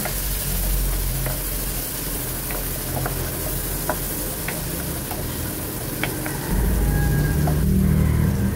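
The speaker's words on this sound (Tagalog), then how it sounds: "gisahin lang natin ito. Tapos maglagay na rin ako ng isang hiwang butter." Beef tongue sautéing in a pan with butter, onion and garlic, a steady close sizzle with occasional stirring clicks and scrapes that swells louder near the end.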